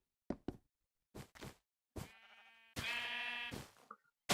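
Sheep bleating in the Minecraft video game, several short quavering calls with a longer sustained bleat near the end, close and clear against silence, with no talk.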